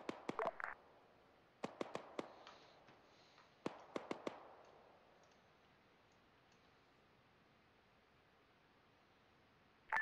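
Bursts of .50 caliber machine gun fire in Arma 3: several short groups of three or four sharp reports, rather distant and faint, separated by quiet gaps, with a final thump at the end.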